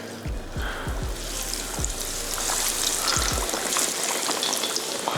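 A coated fish fillet deep-fries in hot oil at about 350 degrees, giving a dense, loud, continuous sizzle with a few low thumps and bubbling pops near the start.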